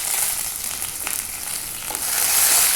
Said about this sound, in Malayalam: ഞാനിതിലേക്ക് ഒരു 2 ഉണക്കമുളകും ഇച്ചിരി കറിവേപ്പിലയും ചേർത്ത് കൊടുക്കുകയാണ്